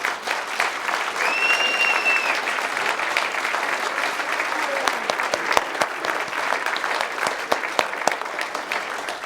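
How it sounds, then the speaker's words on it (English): Sustained applause fills the hall at the Norfolk Care Awards 2017 ceremony, a steady, loud wash of many hands clapping that holds throughout, with a brief whistle near the start. "So please give yourselves a huge round of applause."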